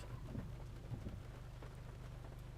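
Soft, steady rain falling on a weedy canal, a faint continuous patter with a low rumble beneath it and no talking.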